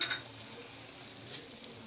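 Mixed vegetables fry with pepper and soy sauce for a Chinese dish, a soft continuous sizzle with faint stirring, quiet and steady, with no talking.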